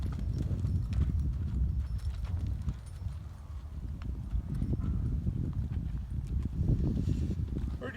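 Hooves of a young colt clip-clopping steadily as it is ridden during colt starting, a continuous close rhythm of hoof falls with someone talking over it.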